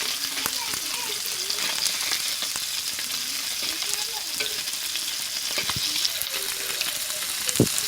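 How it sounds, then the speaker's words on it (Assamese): Pieces of local fish fry in a pan with a continuous close sizzle and crackle, broken by a few sharp pops and faint clinks of stirring. "এতিয়া আমি এই মাছখিনি এখন টেৱাত ভাজি লৈছোঁ।"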